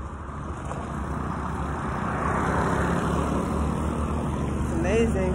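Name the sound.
city bus approaching on street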